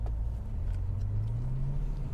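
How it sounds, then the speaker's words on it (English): A Bentley Continental Flying Spur pulls smoothly away from a stoplight, its engine giving a low, steady rumble that rises gently in pitch as it accelerates, heard from inside the cabin. "So we're coming up to a stoplight, and I'm gonna show you exactly, how smooth this car gets going."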